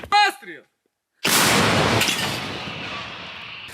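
A single loud boom cracks out from a frontline artillery gun fired by Ukrainian paratroopers in the morning, after a brief voice, its roar rolling and decaying slowly over several seconds.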